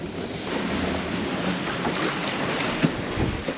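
Strong 30-knot headwind roars over a sailboat as it pushes into a short, sharp swell, with steady wind noise, rushing water and occasional thumps from the hull, and no voices.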